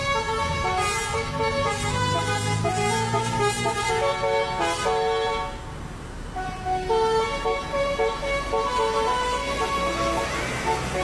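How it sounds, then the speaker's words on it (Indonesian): A telolet bus horn plays a bright, repeating melodic tune of stacked tones, loud and close, briefly dipping before the melody resumes over road noise as the bus leaves a parking area. "Alunan klakson telolet dari bus membuat suasana jadi meriah dan ceria."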